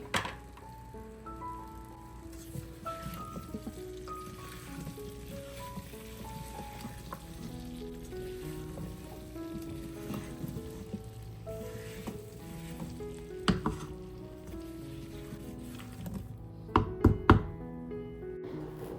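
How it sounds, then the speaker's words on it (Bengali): Apple pieces frying in oil in a pan over a medium flame for a sweet-sour-spicy apple pickle, a soft sizzle with light spoon taps and knocks, and a few sharper clatters toward the end. "আর এই তেলের মধ্যে আপেলটাকে কয়েক মিনিট কষিয়ে নিব"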